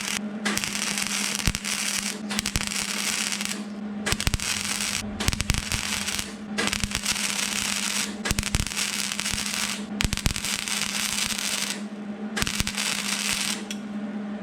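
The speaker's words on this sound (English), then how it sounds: "if you take notice while I'm welding, you don't have to, probably holding the gun about a 3/4 of an inch from the metal" MIG welding gun laying a weld on the steel rocker panel of a Mercury Sable station wagon, a steady loud crackling buzz broken into bursts by short pauses, with no talking.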